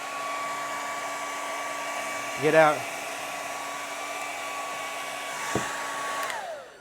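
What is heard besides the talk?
blow dryer running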